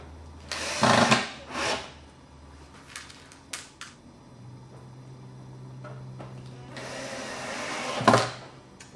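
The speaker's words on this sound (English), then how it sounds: "It's time to put back the screws." A power driver runs screws back into a Bravo Medium DG cajon, giving a few short bursts of whirring at the start and a longer burst near the end, with light clicks and handling in between.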